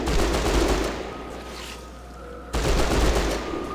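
Sustained automatic machine gun fire in Hunter: The Reckoning, loud and continuous, easing off in the middle for about a second before a fresh burst erupts and keeps going to the end.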